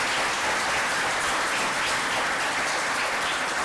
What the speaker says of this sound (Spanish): un fuerte aplauso para nuestros invitados